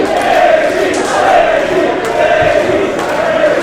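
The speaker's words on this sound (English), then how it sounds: "There's no end of crowd support here for Lizzy" A wrestling crowd cheers for Lizzy Styles in her match against Sweet Saraya Knight, a steady, loud roar of many voices filling the hall, with a commentator talking over it.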